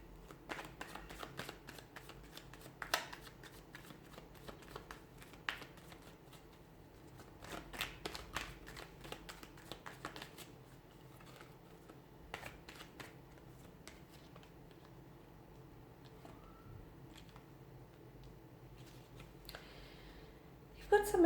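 Tarot cards shuffled by hand, producing soft repeated riffles and light snaps spread through the clip, with occasional sharper flicks and a quiet background.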